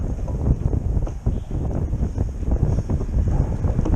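Steady wind buffeting the microphone over Lake Conroe while fishing from a boat, a continuous loud low rumble with gusts and light water slaps throughout.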